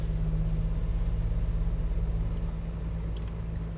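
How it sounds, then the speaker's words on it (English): An MG Majestor SUV engine works off road, a steady, close, low rumble with a fast throbbing pulse that holds fairly even for a few seconds, with no one talking. "So you can feel the RPM going up"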